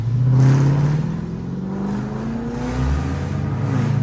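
A Dodge Hellcat's engine rumbles loud and close, a deep throaty idle swelling into revs with rising and falling pitch, no voices over it.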